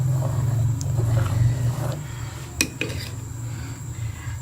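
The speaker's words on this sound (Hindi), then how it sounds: "इसको अच्छी तरह से मिक्स करके पकने के लिए रख देंगे।" Haleem broth stirred in a cooking pot, heard as a steady low rumble with a few sharp metal clinks of the spoon against the pot around the middle; no one speaks.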